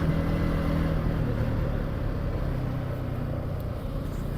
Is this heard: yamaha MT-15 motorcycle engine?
yes